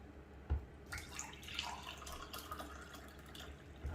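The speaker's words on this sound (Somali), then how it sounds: "koob caano ah ayaan ku shubayaa khalaadka ama mixerka" Milk pours from a cup into a qataif batter mixture of flour and semolina, a soft continuous splashing and trickling for several seconds, close and fairly quiet, with no talking.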